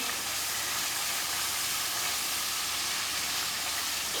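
Okra sizzling in a hot pan after raw mango chutney goes in, a steady, even hiss of frying that carries on without a break and without any talk.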